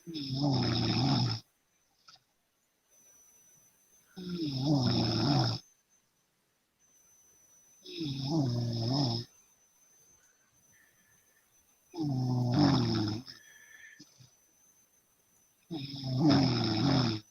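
A person asleep snores loudly and close by in a steady rhythm, five long rasping snores separated by quiet breathing gaps of a few seconds.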